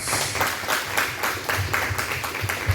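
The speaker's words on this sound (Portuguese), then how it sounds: "Vamos aplaudir a Jesus bem forte." A church congregation applauding in worship, a brief round of clapping with rhythmic bursts, moderate in level and somewhat distant, with a low rumble underneath.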